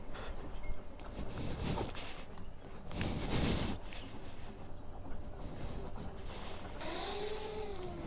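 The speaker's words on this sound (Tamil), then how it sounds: "ட்ரெயின் வருது, சவுண்டு கேட்குது." A train approaching in Ooty rumbles and clatters steadily with rhythmic mechanical rattling, growing fuller over several seconds, with a high whistle-like tone near the end.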